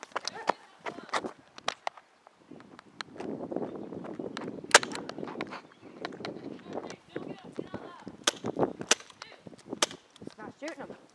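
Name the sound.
airsoft guns firing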